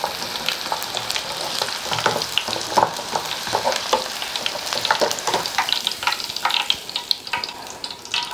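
Small egg-coated pork pieces deep-frying in hot oil, a dense crackling sizzle with scattered sharp pops and spatters that continues steadily throughout, close up and with no talking.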